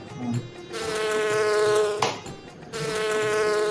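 A person imitates a housefly with a voice, giving a buzzing clue in a Tamil guessing game. Two steady, nasal buzzes are heard with a short break in the middle, and there is no talk over them.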